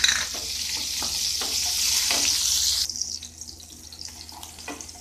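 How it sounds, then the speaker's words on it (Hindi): Red chili, cumin and garlic frying in hot oil while cooking a spicy potato and vadi dish, a loud hissing sizzle that suddenly drops to a quieter crackle with a few light clinks, with no talk. "तेल अच्छे से गर्म हो चुका है, इसमें हम डाल देंगे लाल मिर्च,"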